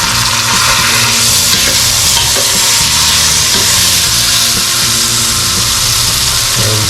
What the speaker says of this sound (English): Everyone's favorite sound is sizzling.